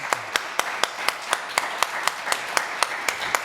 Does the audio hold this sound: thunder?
no